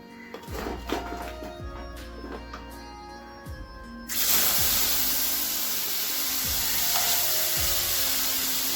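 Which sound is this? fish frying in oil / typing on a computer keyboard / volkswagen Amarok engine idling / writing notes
fish frying in oil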